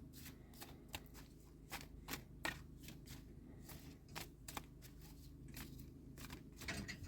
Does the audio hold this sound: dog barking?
no